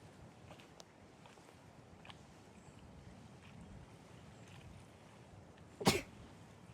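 A single sharp human sneeze bursts out near the end, loud and close, after quiet outdoor ambience of woods with faint wind.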